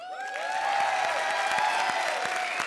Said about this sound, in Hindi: अरबाज के लिए ताली बजाओ